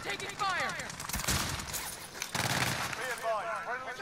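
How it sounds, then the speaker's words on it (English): Rapid bursts of video game gunfire, dense and loud, crackle through a firefight, with a voice talking over the shots. "Oh shit, left side. I'm taking fire."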